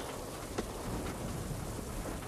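Steady rain falls in a constant, dense hiss that stays even throughout, with no voices.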